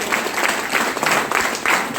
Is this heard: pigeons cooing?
no